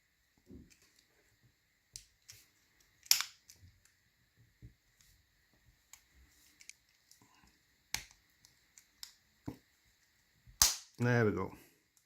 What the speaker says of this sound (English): Snap the battery back together. Listening for a click.